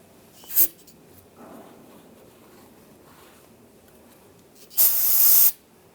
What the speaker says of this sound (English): You can spray some on the rag and then just wipe down the surface area on the differential.